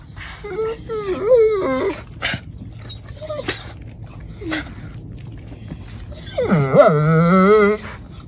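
Dogs play roughly together up close, letting out repeated high whimpers, whines and yips in bursts. The sounds trail off into quiet growly scuffling, then rise again into a long, loud whining howl near the end.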